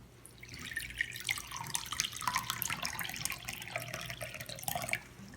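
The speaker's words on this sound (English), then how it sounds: "So now we're gonna pour the water." Water poured to fill a container splashes and trickles continuously for about five seconds, with bright dripping and gurgling close by and no voices.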